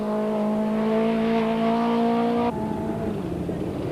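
A Nissan Sentra rally car powers through a gravel stage, its engine droning loud and steady with a sharp tonal shift as the revs drop mid-run.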